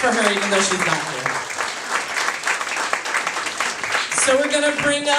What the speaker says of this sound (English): Clap for her, even though she's not here.